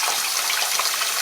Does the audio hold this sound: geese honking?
no